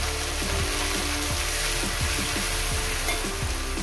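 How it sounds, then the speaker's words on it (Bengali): Ingredients fry in a pan for jackfruit curry, a loud steady sizzle with rhythmic stirring scrapes repeating every half second or so, close up and continuous without speech. "একটু কয়েক সেকেন্ড একটু ভেজে নেব।"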